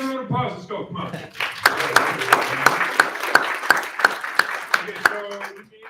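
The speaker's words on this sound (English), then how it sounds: "Big hand round of applause, let's go, come on." An audience at a startup accelerator graduation ceremony in Toronto claps. A brief voice comes first, then dense, lively applause with sharp individual claps builds and holds before tapering off at the end.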